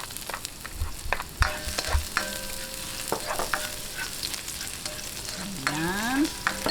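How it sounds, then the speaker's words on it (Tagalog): Garlic sautéing in a pan for banana heart lumpia, with steady frying crackle under scattered stirring scrapes and clinks, close and moderately loud throughout. "Ngayon, umpisahan na po natin yung paggigisa."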